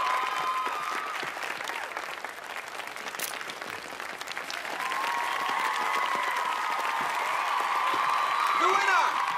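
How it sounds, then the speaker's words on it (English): A crowd at a central arena prize presentation applauds and cheers the winner, with dense, steady clapping that swells louder in the second half while voices call out over it. "So come on over to the central arena and give him a cheer."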